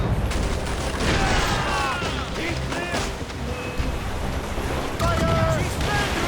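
Ship cannons firing during a naval battle in Assassin's Creed Rogue Remastered, heavy booms over crashing waves and wind at sea, with voices shouting over the fighting.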